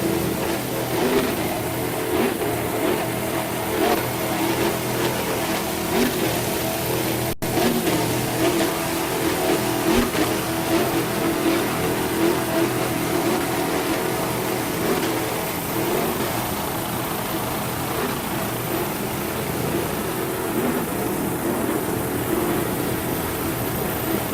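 Mercury MerCruiser-powered offshore racing powerboats, including Talisman Racing's Factory 2, roar continuously at full throttle during a world championship race at Key West, a loud, dense, unbroken engine drone.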